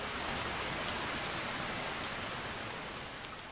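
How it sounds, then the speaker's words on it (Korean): Heavy rain pouring down steadily, a dense even hiss of a sudden shower with no voices. "비가 오는 것 같습니다."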